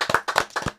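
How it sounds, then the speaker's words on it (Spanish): A few hands clapping for a guest on a Spanish-language talk show, with four or five distinct, fairly close claps in a quick uneven rhythm and quiet gaps between them. "Un aplauso para él."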